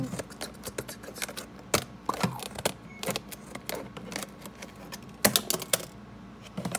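Sharp, irregular snipping clicks of scissors cutting open packaging close by, scattered in quick clusters with brief pauses between cuts.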